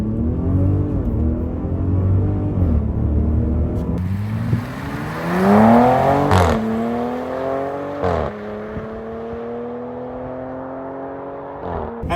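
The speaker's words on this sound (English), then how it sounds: "What's it like to accelerate in the RHO?" A Ram RHO pickup truck accelerates hard, its engine note rising steadily through the revs with loud, close gear changes that drop the pitch before it climbs again, with no talking over it.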